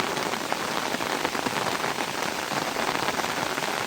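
Steady rain falls in a dense, even hiss with scattered drop patter, close and moderately loud for the full four seconds, with no voices.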